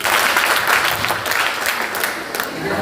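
A seminar group claps together on a counted cue, a dense burst of many hands that is loud and close and continues for the whole short stretch without speech.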